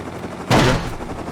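An automated turret in the survival game Rust lets off a short, sharp gunfire burst, loud and close, standing out against a low background hum before quickly fading.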